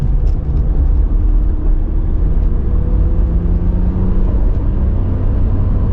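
A 1996 Nissan Skyline GT-R LM V-Spec driving at steady speed, its engine a loud, constant low drone under road and cabin noise, with no clear gear-shift break.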